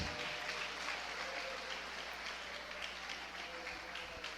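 Faint, distant applause from a church congregation during a sermon, a steady wash of soft clapping held at low level throughout without any clear pauses.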